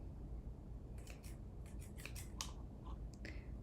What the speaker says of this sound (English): The beads came with these bead scissors, and they don't really work for me.